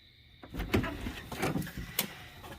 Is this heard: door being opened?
yes